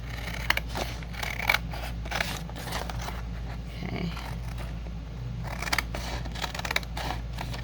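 Scissors snipping paper in a quiet room during a crafting project, soft repeated clicks and crisp cuts scattered over a low steady hum, close and fairly faint.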